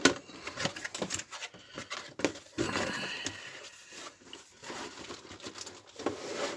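Plastic bags rustling and crinkling as parts of a Revell Unimog model kit are unpacked, a run of close, irregular crackles and rustles with brief pauses, no talk.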